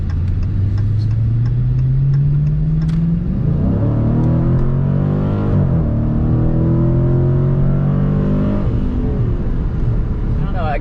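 A 2020 Dodge Challenger Scat Pack Widebody accelerating hard in automatic, its V8 rising in a long steady pull, briefly dropping at a shift, then climbing again. Loud in-cabin engine roar, with people talking over it.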